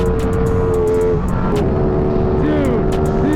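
A 2023 Ducati V4 SP2 motorcycle's V4 engine held at wide open throttle on a racetrack, giving a loud, steady, high-pitched drone with wind rush that continues without a break.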